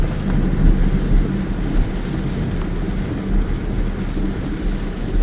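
Heavy rain with thunder heard from a vehicle while driving, a dense steady low roar and rumble that swells slightly at times, no voices.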